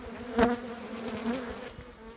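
Bees hum in a dense, steady buzz close by, swelling and fading slightly as individual insects pass near.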